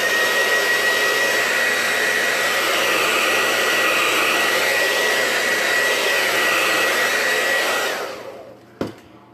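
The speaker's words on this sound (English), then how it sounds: "Let's blow dry these." A hair dryer blows on freshly painted red and black holly decorations, a loud steady whirring roar that holds for about eight seconds before switching off and winding down, followed by a sharp knock.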